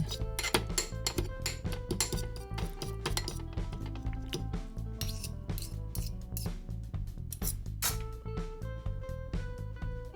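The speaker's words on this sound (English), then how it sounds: "I'm mashing up a few of the black garlic cloves with a tablespoon of earth balance." A utensil mashes black garlic cloves with a tablespoon of vegan butter in a bowl, giving a quick run of light, repeated clinks and taps against the dish, close and fairly quiet, with sustained ringing tones underneath.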